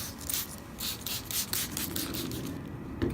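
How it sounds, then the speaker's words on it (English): Rhythmic rubbing as a dirty car window's glass is scrubbed by hand with a cleaning product, repeated close back-and-forth strokes of moderate loudness without any voices. "And then just kind of scrub it a bit because mine is really dirty"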